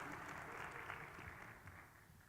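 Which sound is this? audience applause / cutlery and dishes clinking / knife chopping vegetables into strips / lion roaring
audience applause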